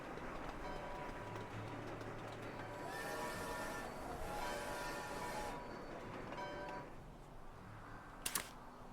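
Trains in the railway-building video game Sweet Transit rumble along continuously with steady mechanical clatter and faint tonal hums, a brief sharp high burst near the end.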